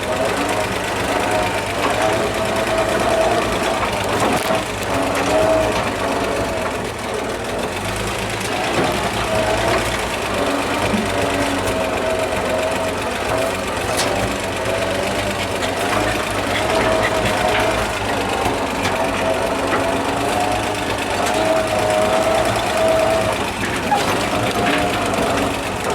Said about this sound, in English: I definitely wouldn't recommend driving your 47 dump truck down this.